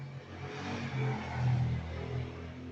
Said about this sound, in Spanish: disculpen, el carro